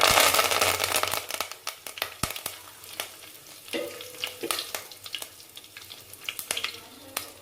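Mustard seeds, a clove, a bay leaf and curry leaves crackle and pop in hot oil, with sharp irregular bursts over a soft continuous sizzle and a brief scraping stir.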